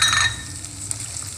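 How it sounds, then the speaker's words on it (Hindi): Okra (bhindi) frying over a low flame in a pan for a bhindi chicken masala, giving a steady soft sizzle with a brighter crackle at the start and no talking. "अब इसमें हम ये भिंडियाँ डाल देंगे, ये देखें। और इनको हल्की आग पे हम फ्राई करेंगे।"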